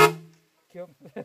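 A modified vehicle in Vietnam's Central Highlands gives one short, loud, tonal horn blast in the rain, fading within half a second, followed by someone talking.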